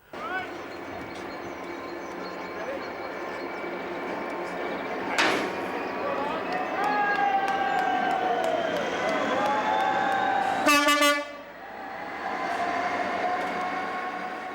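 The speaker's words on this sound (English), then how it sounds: "Hauled by a DB Schenker Class 66 diesel locomotive with 12 carriages" A DB Schenker Class 66 diesel locomotive hauling twelve carriages gives a steady, sustained rumble with drawn-out squealing tones, a sharp clank partway through and a brief pulsing burst near the end.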